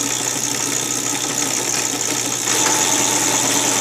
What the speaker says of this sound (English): Now I'm going to just shift it into second, and I'm not going to do anything with the clutch.